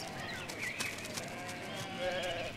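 Several sheep being herded bleat repeatedly over a background of shuffling hooves and movement, the calls overlapping at close to moderate distance.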